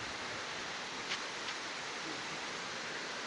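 A waterfall at a natural swimming spot gives off a steady, dense rush of water that fills the whole short stretch without any break. No voices can be heard over it.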